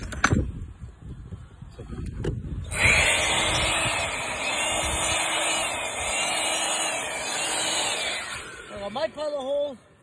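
A power drill bores a pilot hole into a wall stud, a steady high whine held for about five seconds after a few knocks, then slowing, with a voice speaking at the end.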